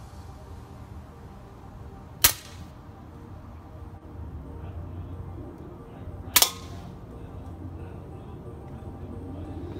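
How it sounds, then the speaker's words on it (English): A BB gun fires two sharp, isolated cracks about four seconds apart over a low, steady background hum. "And the one more thing to do is shoot it with a BB gun."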